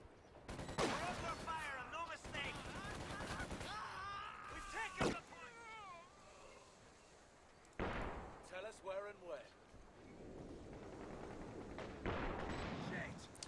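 An ISG infantry gun and other fire in Company of Heroes 2, sharp booming shots and bursts scattered across the stretch, heard under steady excited commentary from a caster.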